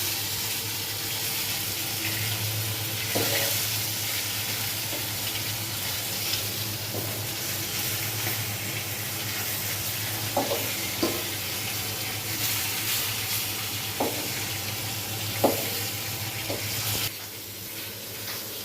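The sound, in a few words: fish pieces frying in a pan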